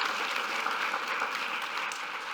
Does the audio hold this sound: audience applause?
yes